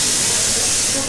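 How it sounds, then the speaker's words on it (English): An espresso machine at a hotel in Gulmarg, Kashmir releases a loud, steady hiss of steam that holds for about a second and then begins to fade. "What you just heard is an espresso machine."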